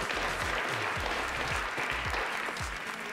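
Steady applause from a television game show studio audience, a dense even roar of clapping filling the whole stretch, with low rhythmic thumps pulsing underneath like background music.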